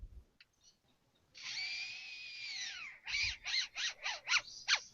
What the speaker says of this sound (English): That sounds like a drill. That was a drill.